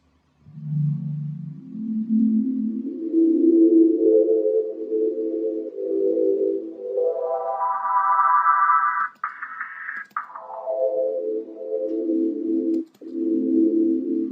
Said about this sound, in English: I think that's their synth.